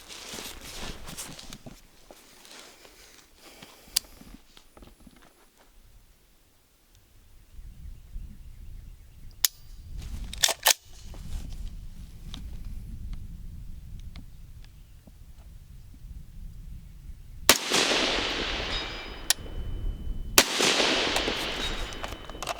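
Rifle shots at a competition, fired from the prone position. Several sharp, isolated cracks ring out at irregular intervals over quiet background noise, with a louder burst of shots near the end. No voices.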